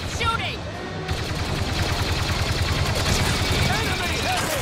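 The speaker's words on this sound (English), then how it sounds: "Then just keep shooting!" Rapid blaster gunfire in the video game Star Wars Battlefront 2 during the Battle of Jakku, dense continuous bursts of shots layered with explosions and battle noise, with voices heard under the din.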